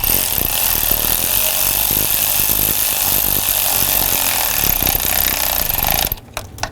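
Valve cover bolts on the driver side of a 2005-2015 Nissan Xterra being tightened, a loud, steady rattling power-tool drone running almost the whole time before cutting off abruptly near the end.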